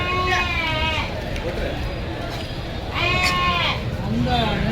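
Sheep and goats bleat in loud, close, repeated calls at a weekly Tuesday livestock market in Sira, over a constant busy crowd murmur.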